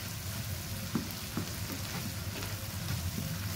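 Chopped onions fry in a pan for chicken chasseur with a steady, close sizzle and a few soft taps of stirring, and nobody speaks.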